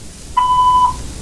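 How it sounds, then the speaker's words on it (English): A voicemail system's beep following its recorded greeting: one steady electronic tone lasting about half a second, clear and alone, with faint background hiss before and after. "Please leave a message after the beep."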